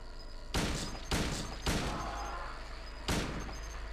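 Gunshots in the video game Silent Hill 2, four loud sharp bangs with the first three in quick succession and the last after a short pause, each with a reverberant tail over a dense background.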